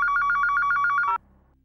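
A telephone rings in a steady, rapid trilling burst for about a second, then cuts off abruptly, leaving near silence.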